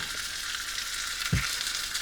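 Chicken breast searing steadily in a pan over low heat, a loud, continuous crackling sizzle with one brief soft knock partway through and no voices.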